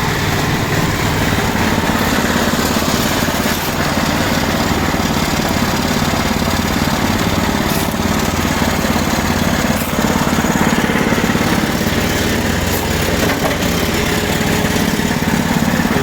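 Small 22 hp tractor engine without a battery, running at a construction site, a loud continuous rattling drone that stays steady and close throughout with no break.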